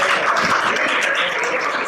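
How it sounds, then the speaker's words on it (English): Audience at a talk giving a welcoming round of applause for speaker Neel Kolhe; dense, even clapping filling the room at steady loudness, no voices over it. "invite Neel with a round of applause"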